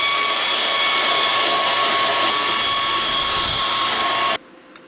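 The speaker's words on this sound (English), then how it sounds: "Boom, we'll weld that one there" Welding a gusset onto an exhaust tube mount, a steady loud hissing, crackling buzz with a faint tonal whine that runs unbroken for about four seconds and then cuts off abruptly to near quiet.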